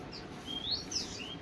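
Sparrows chirping in a tree: a few short, high tweets over a faint background, heard fairly close within a brief moment.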